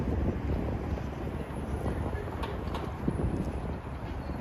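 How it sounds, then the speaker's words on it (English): Strong wind on an evening street in Manhattan, New York City, buffets the microphone with a constant low roar and gusty rumble, a faint muffled voice briefly underneath. "Yes, it is very windy. Very windy."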